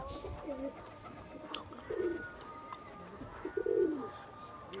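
Pigeons coo in low, throaty bursts at a loft at dusk under cloudy, rainy weather, several soft rolling calls spaced a second or two apart against a faint background.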